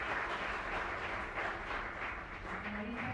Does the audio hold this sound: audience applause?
yes